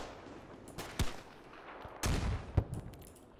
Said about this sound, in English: Oh, we got rifle grenades being fired.